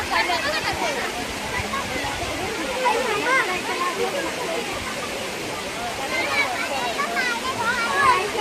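Water flows beneath a small bridge at the Daryayi Mata cave temple in a hillside valley, a constant rushing wash mixed with overlapping voices of people and children nearby.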